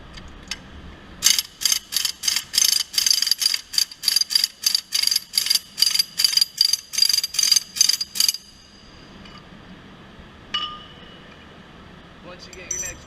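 A ratchet wrench spinning off a wheel bearing nut: about fifteen quick, evenly spaced metallic clicking bursts close to the mic, then quiet with a few small clinks as someone talks.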